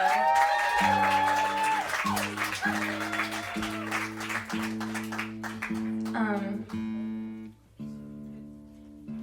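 Live music venue audience applauding a drummer, clapping and crowd noise layered over sustained instrument tones and a voice speaking, with the clapping fading out in the final seconds.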